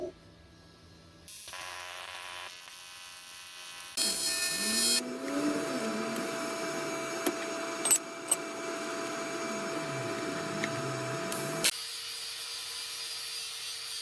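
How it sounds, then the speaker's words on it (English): Aluminium welds on a homemade washer bottle being ground back with a power grinder, a steady whining buzz with shifting tone and scraping variation running for several seconds, close and fairly loud, no talking. "Grinding the welds back for aluminium is a lot easier than steel and stainless steel"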